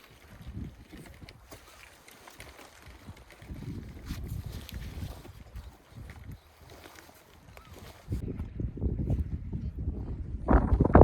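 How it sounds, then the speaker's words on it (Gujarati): Strong gusts of wind on a lakeshore buffet the microphone in uneven rumbling waves, growing heavier and louder toward the end. "પવન બહુ વધારે છે, એના કારણે ટેન્ટ તો ભેગું થઈ જાય છે."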